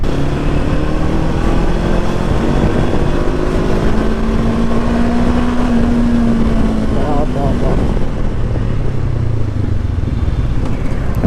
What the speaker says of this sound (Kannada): ಸೌಂಡಿಂಗ್ ಇದೆಯಲ್ಲ, ರಂಬಲ್ ಸೌಂಡು ಹೂ ಅಂತ ಸಾಕಾಗಿದೆ ಸೌಂಡು.